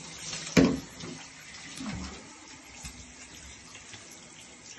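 Shower water runs steadily in a broad hissing spray while a dachshund is bathed, with a brief louder splash near the start and no voices.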